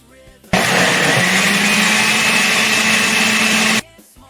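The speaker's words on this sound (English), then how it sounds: "To the blender, then stir." A kitchen blender whirs steadily at full power for about three seconds, mixing condensed milk and cream for a lemon dessert, starting and stopping abruptly with a loud, even motor drone.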